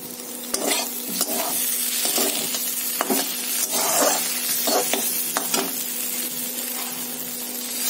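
Eggplant slices fry in a wok with a continuous loud sizzle, broken by repeated clicks and scrapes of a utensil stirring and turning the pieces; no voices.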